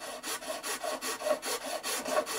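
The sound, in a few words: filing a guitar nut with nut files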